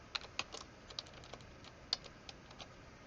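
Quiet, close computer keyboard typing while entering code, a short irregular run of individual keystrokes with a couple of sharper key presses standing out, no talking over it.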